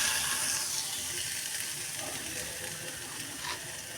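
A paste of crushed shallot and garlic fries in half a spoon of oil for green amaranth thoran, giving a continuous close sizzle and crackle with faint stirring scrapes.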